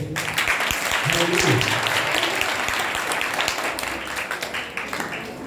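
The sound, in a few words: church congregation clapping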